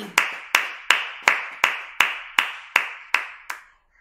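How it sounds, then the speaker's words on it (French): Crowd clapping in unison to welcome the speaker at a prayer vigil at Cheonshim Won in Korea, ten loud, evenly spaced synchronized claps, each ringing out with reverb, then silence. "Recevons Président Lee Ki-song avec des acclamations très nourries."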